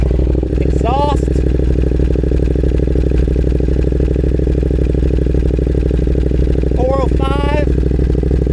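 A Ducati Monster 821 engine idles in a steady, loud, rapid thrum that stays even throughout, with brief chirping sounds near the start and end.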